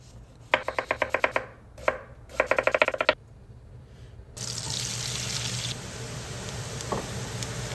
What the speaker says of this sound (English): Get ready for some professional chopping footage